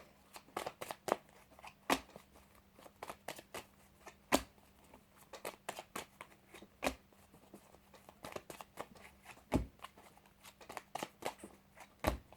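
Tarot cards being shuffled and drawn, a run of quick crisp card snaps and flicks in an irregular rhythm, close and fairly soft, with no talking.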